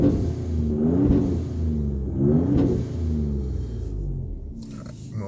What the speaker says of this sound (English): You can hear that blow-off valve a little bit.